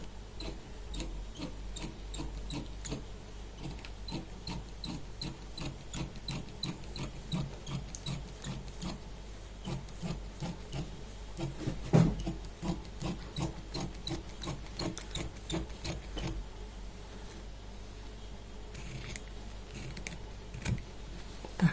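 Scissors snip through the side seam of an embroidered shirt in a long run of close, crisp, rhythmic cuts, steady then briefly sparser, with no talking.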